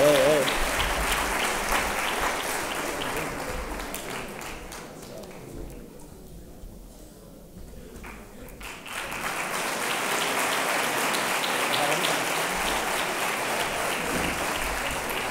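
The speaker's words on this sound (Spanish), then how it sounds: "un fuerte aplauso para Manuel Morillo" Sustained applause from an audience at a sports awards gala, dense steady clapping that dips in the middle and swells again, with crowd voices mixed in.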